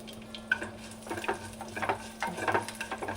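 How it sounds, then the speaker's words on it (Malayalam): Mustard seeds spluttering in hot oil in a pan while making Kerala moru curry, a soft irregular crackle with stirring scrapes, a few sharper pops rising in bursts. "കടുക് പൊട്ടി"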